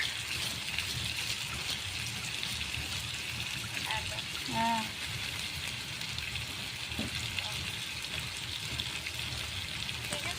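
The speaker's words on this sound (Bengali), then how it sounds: "ভালো করে এই পেঁয়াজগুলো ভেজে নেব, ভালো করে কষিয়ে নেব" Sliced onions and green chillies fry in a pan, giving a steady close sizzle and hiss that continues throughout with no voice over it.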